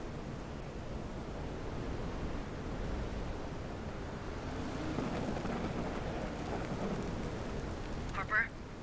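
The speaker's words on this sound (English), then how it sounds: "even though there's a storm out here" A thunderstorm in the video game Aliens: Dark Descent brings a continuous broad roar of heavy rain with low rumbling swells, steady and close, with a brief sharp crackle near the end.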